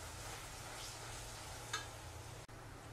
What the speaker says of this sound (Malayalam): അപ്പോൾ ഇത് നല്ലതുപോലെ നമ്മൾ വഴറ്റിയെടുത്തു.